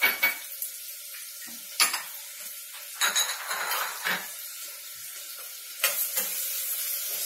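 Onions, green chillies and curry leaves frying in oil for mutton masala, a soft steady sizzle punctuated by sharp scrapes and clinks of a spoon stirring against the pan.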